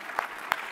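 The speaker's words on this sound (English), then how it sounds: "people just clap" A few scattered claps from an audience at an award ceremony, two distinct sharp hits about a third of a second apart over a quiet room background.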